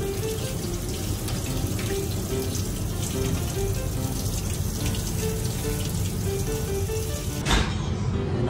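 Chopped cabbage for coleslaw is rinsed under a running kitchen tap, a continuous close splashing rush of water with faint knocks of the leaves, unbroken throughout.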